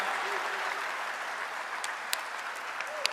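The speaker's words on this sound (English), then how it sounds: "They're clapping for you," Applause from a press conference audience, a steady dense patter of many hands, fairly close, with a few sharper individual claps standing out near the end and a faint voice briefly underneath.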